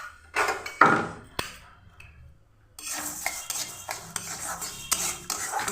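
A metal spoon scrapes and clanks against a wok on a gas stove as moong dal is dry-roasted and stirred. A loud clack and some scraping come first, then after a short pause there is steady rhythmic scraping and clinking, close and fairly quiet.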